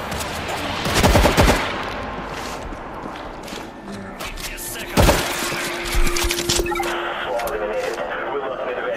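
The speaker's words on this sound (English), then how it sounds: "this gun gave a loud noise" Gunfire in the zombie shooter World War Z: Aftermath, set at a stairwell in Moscow, with loud bursts of shots near 1 second and again around 5 and 6 seconds over busy game noise and a talking voice.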